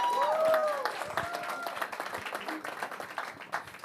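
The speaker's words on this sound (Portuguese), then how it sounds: "Palmas para Maurício Fragale." A studio audience applauds at the start of a Brazilian talk show, a moderate burst of clapping that thins out and trails off, with a brief musical sting at the start.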